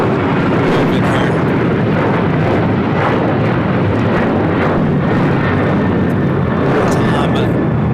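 Airbus A380 airliner moving at LAX, a loud, steady, broadband jet roar that fills the whole stretch without letting up.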